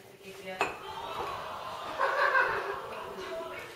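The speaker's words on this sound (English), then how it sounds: "now let's put some of this in and you stir it." Ingredients are stirred in a bowl with a utensil, making soft clinks and scrapes, one sharp knock early on, while people talk and laugh faintly nearby.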